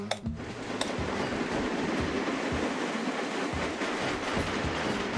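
Train rolling on rails in the Train Crisis video game, a steady loud rumble with rhythmic clickety-clack beats and mechanical hum throughout.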